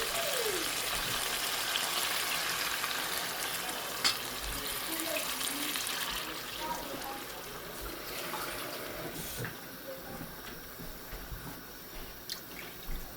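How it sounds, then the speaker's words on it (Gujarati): Water is poured into a spicy coconut fish curry in a hot pan, making a steady, loud hiss and bubbling sizzle that fades gradually, with a few sharp clicks near the end. "ચાલો આપણે પાણી એડ કરી દેવાનું છે."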